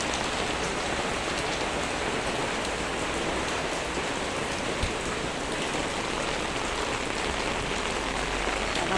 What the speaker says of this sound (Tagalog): Ay, naku ang ulan.